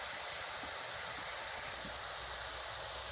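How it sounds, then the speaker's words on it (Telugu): Gram-flour batter drips through a perforated ladle into hot oil to make crisp boondi, producing a constant, faint, even hiss of frying with no voices. "మొత్తం కూడా ఇట్లా గిన్నెతోనంటే చుక్కలు చుక్కలుగా పడి బూందీ అవుతుందండి"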